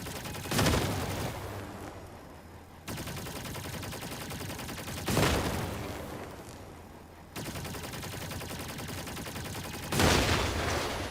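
Heavy weapon fire in the Crossout vehicle combat game, three big loud blasts spaced about every four and a half seconds, each followed by a sustained rumbling roar.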